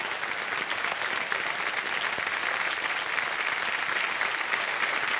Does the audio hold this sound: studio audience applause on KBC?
yes